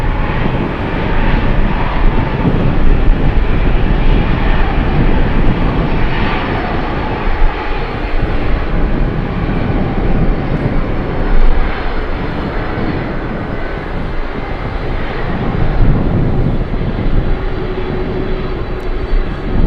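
A Dynasty Boeing 747-400 jet bound for DFW at Anchorage, with gusty winds on runway 15, gives a steady, loud, broadband engine roar that holds for about twenty seconds with no talk over it.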